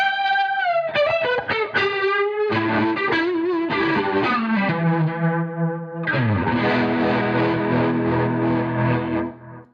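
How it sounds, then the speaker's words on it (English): Electric guitar through a JAM multi-effect pedal with Tube Dreamer overdrive, ringing out in sustained distorted chords and sliding notes with a chorus-like shimmer. It plays alone with no voices. "Let's add Tube Dreamer."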